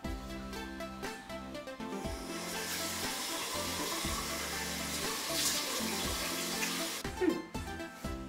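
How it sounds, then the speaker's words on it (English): Warm tap water runs steadily while a face is splashed and washed at a sink, a continuous close hiss of flowing water with brief splashy breaks. "now I'm gonna wash with the warm water"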